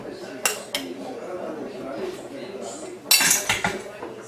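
A knife cuts a tamale into pieces on a plate, giving a few sharp metallic clinks and scrapes of cutlery against the dish, close and distinct, with a soft voice murmuring in between.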